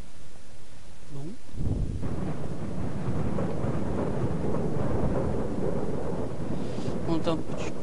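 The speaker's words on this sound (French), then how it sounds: "On entend un peu du tonnerre" Thunder rumbling in Minecraft, a deep rolling boom that swells and lingers over steady rain-like noise.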